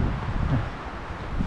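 Strong wind on a stone-stepped trail to Ulsanbawi in Seoraksan buffets the microphone as a steady, loud low rumble and rush with no talking.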